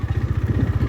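Close, loud motorcycle engine chugging with a rapid, regular beat during a ride on the road, with no voices over it.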